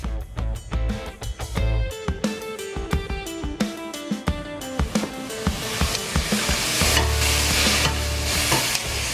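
Wine hits a hot pan while deglazing for a pan sauce, giving a loud, close sizzle and hiss that swells and intensifies, with stirring scrapes and clinks running through it.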